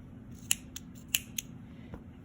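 Scissors snip through crochet yarn close up in a quiet room, a few crisp separate clicks of the blades opening and closing.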